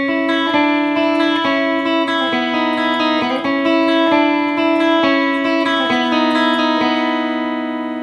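Electric guitar with distortion and reverb plays the opening triplet riff of a song: steady, rhythmic picked chords repeating for several seconds, loud and alone with no talking.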